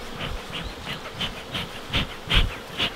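Honey bees swarm around a beekeeper harvesting acacia honey, making a steady close buzz that swells and pulses as individual bees pass near.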